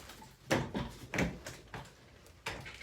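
A bifold door being moved and shifted during adjustment, giving several soft knocks and rattling thumps at irregular intervals, close by in a quiet room.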